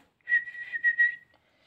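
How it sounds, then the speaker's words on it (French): A person whistles a short melodic phrase of several sustained notes, clear and close, alone with no other sound. "Je siffle bien, vous avez vu."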